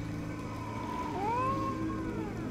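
A pet cat meows in one drawn-out, rising then falling call over a steady low hum, at moderate loudness and fairly close.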